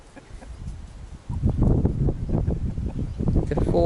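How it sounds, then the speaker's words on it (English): Backyard chickens and four roosters clucking and calling together near the listener, a busy overlapping flock that grows louder partway through, with faint wind in the background. "The 4 roosters."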